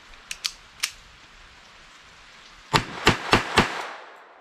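A Beretta 950 BS pistol firing CCI .22 Short hollow-point rounds: three sharp light reports, a pause, then a quicker string of four louder cracks close by, no talking.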